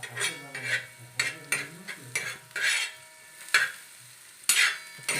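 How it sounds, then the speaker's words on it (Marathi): Repeated scraping and stirring strokes as an onion roasts on a hot griddle, with a soft sizzle underneath, close and fairly loud, no talking. "आपल्याला कांदा आहे ना घेऊन भाजून घ्यायचा तव्यावरती भाजून घ्यायचा"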